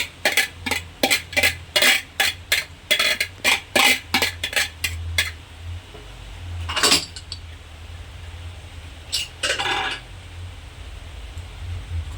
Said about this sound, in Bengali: এখন মাংস আর বাঁধাকপি ভালোভাবে নাড়াচাড়া করে গ্যাসের ফ্লেমটা হাই করে দেবো